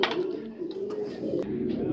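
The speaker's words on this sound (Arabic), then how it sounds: "عاد وريتكم الحمام كامل اللي كاين في هذا الجنه" Pigeons coo in low, rolling repeated calls close by, a flock of more than a hundred birds in a loft, with occasional soft flutters and faint background voices.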